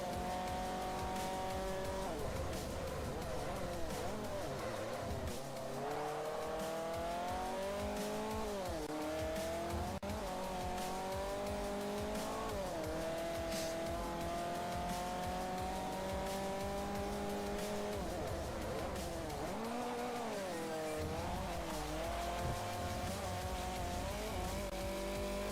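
Race cars in Forza Motorsport 4, a Camaro and a Shelby, roar through a race with rising and falling engine notes, gear shifts and brief tire squeals, loud and continuous without talk.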